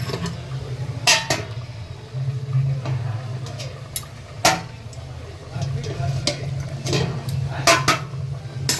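Meat cooking in a pan gives a steady low sizzle, broken by repeated sharp scrapes and clanks of a spoon stirring against the metal, close and fairly loud, with no speech.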